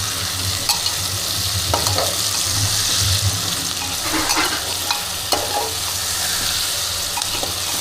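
Onions sizzle steadily in a pan for a jackfruit curry while a spoon stirs them, with scraping strokes coming and going over the continuous frying hiss; no one speaks.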